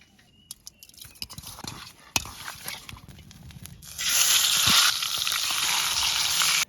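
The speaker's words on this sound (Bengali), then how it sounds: "মাছটা কোড়া দেওয়া হয়ে গেছে, এখন তেলে ভাজা লাগিয়া হলুদ আর লবণ দিয়ে মাহাইলমু।" Pangas fish pieces coated with turmeric and salt drop into hot oil, several sharp clicks and clatters giving way to a loud, dense, steady sizzle close by.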